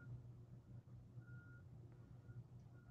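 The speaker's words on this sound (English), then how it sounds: "I think I hear a truck backing up" Truck reversing beeps, faint and distant, sounding as a few spaced electronic tones over a low background hum.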